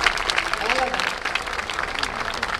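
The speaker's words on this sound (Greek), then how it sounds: "Και να χειροκροτήσουμε τη Κική μας" Audience applause at a 2023 charity event in Greece, a steady wash of many hands clapping throughout, fairly loud and dense, with no speech over it.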